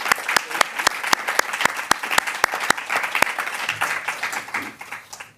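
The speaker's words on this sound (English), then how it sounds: "amazing round of applause for them again" Audience applause at an education event, a loud close burst of clapping with crisp individual hand strikes, tapering off at the end as a voice briefly starts.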